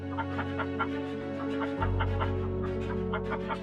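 A chicken clucking in a rapid series of short, sharp calls over a steady low hum, fairly close and continuous, with the background drone stepping up partway through.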